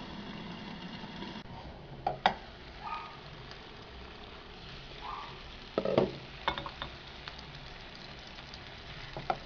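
Chicken breast cooking covered in a pan over lowered heat, a faint steady sizzle and hiss broken by a few brief clatters of the lid or utensils, quiet and close, with no speech.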